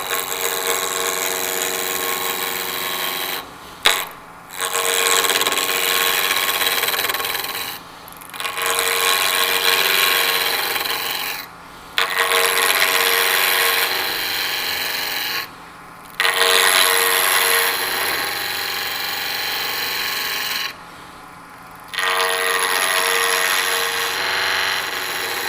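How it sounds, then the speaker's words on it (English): Wood turning on a lathe with a small skew chisel taking light planing cuts along a spindle: a steady, loud scraping hiss in long bursts of two to four seconds, separated by brief pauses, with no talking. "and then I'll make a cut this way, just to, you know, kind of a planing cut with the skew."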